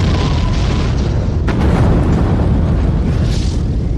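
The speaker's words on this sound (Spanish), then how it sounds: "en su lugar colocar la explosión de la maqueta mía" A large four-metre miniature model pavilion explodes as a film special effect, a loud sustained roaring blast rumble with a sharp burst partway through, close and continuous with no voices.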